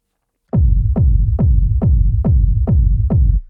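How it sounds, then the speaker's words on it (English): Eight punchy kick drum hits from a raw techno sample with deep rumble baked in, each thump sliding into a long low boom, evenly spaced at a steady pulse, loud and dry with no voices. "So this is one of the kick drum samples"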